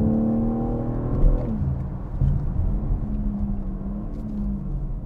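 A BMW M3 Touring engine in sport mode revs up with a rising whine, then the pitch drops into a steady, loud rumble as it keeps driving.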